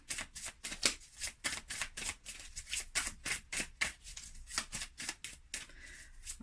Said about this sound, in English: I'm just going to go ahead and pull the other two cards for the present reading of the deck.